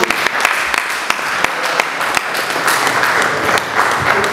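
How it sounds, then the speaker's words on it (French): Applause from an audience at a Paris press conference ahead of a concert, a strong steady clapping with a few sharp individual claps standing out, with little talking. "si vous pouvez l'applaudir"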